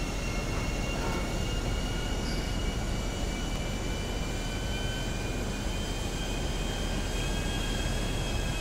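A jet in a plane drag race roars through its takeoff run, a loud, steady, broadband rush of engine noise that holds constant throughout with no break.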